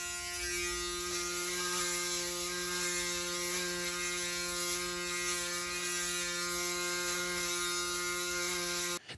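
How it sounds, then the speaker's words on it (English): A Braun Series 9 Pro electric shaver running steadily at close range, a loud, dense mechanical buzz with a rattling, gear-like whir that holds constant for several seconds before cutting off abruptly. "First of all, it is really, really loud. You can listen here."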